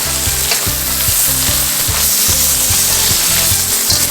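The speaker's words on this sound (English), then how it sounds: "Stir that around a little bit." Mushrooms and asparagus sizzle loudly in a hot pan while being stirred, a dense steady frying hiss with rhythmic low scraping strokes from the stirring throughout, no talking.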